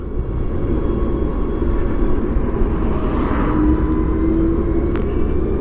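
A BMW CE 04 electric scooter rides in eco mode, giving a steady close rumble of road and wind noise with a faint motor whine rising partway through.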